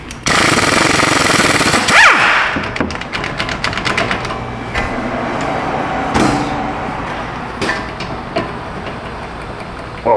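An impact wrench fitted with an Astro Tools swivel socket hammers loudly on a car part during ABS module work in a shop, with several bursts of rapid rattling and short pauses between them.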